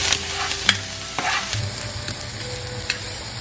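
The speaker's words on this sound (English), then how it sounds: "On a hot pan or skillet, saute 1 cup of chopped yellow onion over medium-high heat for 3 to 4 minutes" Chopped yellow onion sautés over medium-high heat in a hot skillet, giving a steady close sizzle broken by a few sharp stirring clicks; no one speaks.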